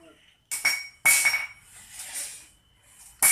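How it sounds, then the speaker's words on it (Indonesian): Hammer blows on bent 10 mm steel rebar being straightened for a house foundation sloof, three loud ringing metallic strikes with clanging decay, spaced irregularly, close up. "Kita juga luruskan besi yang bengkok, kita palu biar rapih juga."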